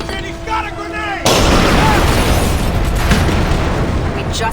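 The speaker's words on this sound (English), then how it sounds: "He's got a grenade!" A grenade blast in the stealth shooter Splinter Cell Conviction, a sudden loud boom that gives way to a sustained roaring, rumbling wash, with brief game voices just before it.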